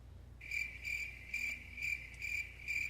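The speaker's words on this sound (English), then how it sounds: "I had to play the crickets soundbite" Cricket chirps from a stock soundbite pulse in steady, evenly spaced bursts, a high pure trill repeating about every half second, clear and alone over a faint low hum.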